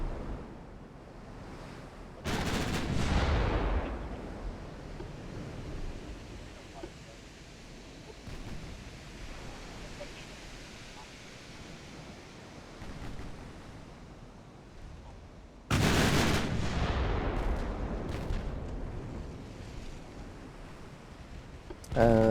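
Warship guns in the naval battle game Ultimate Admiral: Dreadnoughts fire in two heavy booming blasts, each with a long rumbling tail, over a background of sea and wind, while someone talks.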